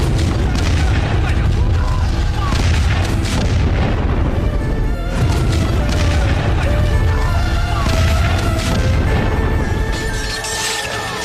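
Cannon artillery bombardment from high ground, heavy continuous booming and crashing blasts that fill the whole clip at a loud, steady level, with dense rumbling layered under sharper impacts.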